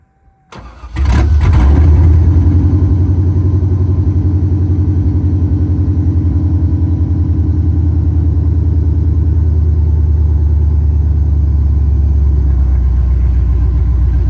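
A Pontiac Firebird Trans Am engine cranks and fires up, then settles into a loud, deep, steady rumbling idle close by for the rest of the stretch, with no voices.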